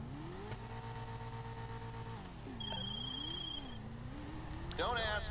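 A Jester sports car in GTA V hums at a steady idle, then its engine note dips and swells through a few revs before a sharper rise at the end, moderately quiet under game ambience.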